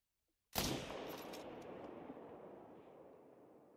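A single loud rifle shot fired at a red deer while hunting on the Te Awaroa map in a video game, cracking sharply and then rolling away in a long, slowly fading echo, with no voices.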